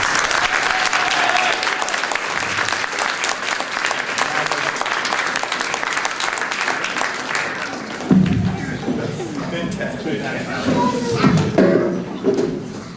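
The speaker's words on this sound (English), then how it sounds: "if we could give them all one more round of applause" Enthusiastic audience applause for an orchestra at a school winter concert, loud and sustained, thinning in the later seconds as a voice speaks over the fading claps.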